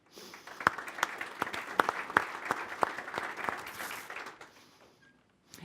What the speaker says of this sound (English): Please join me in a warm welcome and round of applause for our speakers.